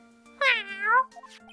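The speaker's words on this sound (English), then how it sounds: "there's the meow" A single clear cat meow, rising and then falling, from the cat in Phoenix Wright Ace Attorney: Justice for All, heard close and alone over a faint steady game tone.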